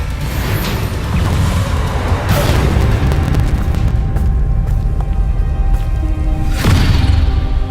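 The Bombarda spell in Hogwarts Legacy sets off a deep, booming blast layered within a dense, loud, continuous wash of game sound.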